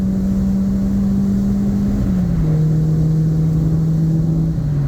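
Peugeot 106 1.1 car pulling hard in third gear to overtake, a steady loud engine drone heard from inside the cabin that climbs in pitch, drops briefly around a gear change, then keeps pulling.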